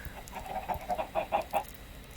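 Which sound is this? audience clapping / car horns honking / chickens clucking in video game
chickens clucking in video game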